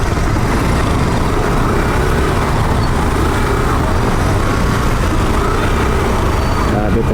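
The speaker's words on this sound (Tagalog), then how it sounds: "Grabe traffic." Heavy road traffic in Pasay makes a loud, dense roar of engines and road noise close by, steady throughout, with muffled voices mixed underneath.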